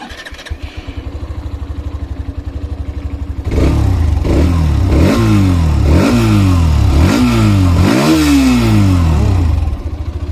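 A 2024 Hero Xtreme 125R motorcycle idles with a steady close putter, then starts up and revs loudly in repeated sharp throttle blips that rise and fall, settling back toward idle at the end.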